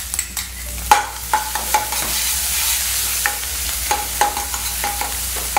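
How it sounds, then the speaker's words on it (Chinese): Scallions and ginger paste being stir-fried in a wok over medium heat, with a steady close sizzle broken by repeated sharp scrapes and clacks of the spatula against the metal. "稍微炒一下，炒软就可以了哈，不用炒到焦哦"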